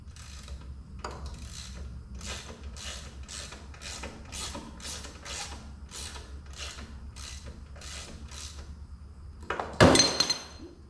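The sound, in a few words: removing a bolt from a John Deere 1B corn sheller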